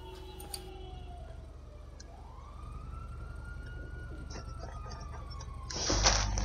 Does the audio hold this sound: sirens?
yes